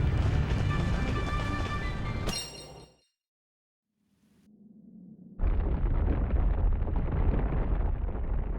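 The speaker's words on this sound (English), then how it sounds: "It's gonna blow!" An explosion erupts in the video game Eiyuden Chronicle Rising, a loud sudden blast that fades into total silence before a deep rumbling roar swells back in.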